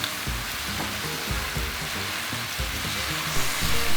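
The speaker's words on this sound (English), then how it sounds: "I think it's just about time to flip pork chops." Pork chops sizzle on a Blackstone griddle with a loud, continuous frying hiss and a few soft scrapes and pops, and no voices.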